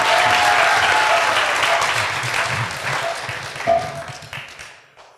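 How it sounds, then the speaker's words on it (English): An audience at a kirtan festival initiation ceremony breaks into dense, steady applause that gradually thins and tapers off, with a few faint voices beneath the clapping. "Give her a big round of applause and an easy bow."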